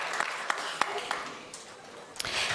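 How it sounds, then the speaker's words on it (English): An audience at a college pitch competition claps for the contestants. The applause is thin and scattered, with a few distinct individual claps over a soft background wash. "let's give those that's come up here thus far another round of applause"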